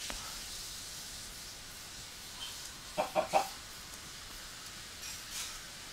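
Minecraft chickens giving a quick trio of soft clucks in a row midway, with a faint extra cluck later, over quiet game ambience.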